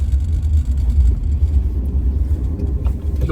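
A 1975 Audi 100LS being driven into corners, heard as a steady, heavy low engine and road rumble from close inside the car, with no break and no talking.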